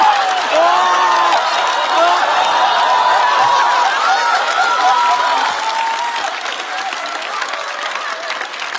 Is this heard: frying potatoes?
no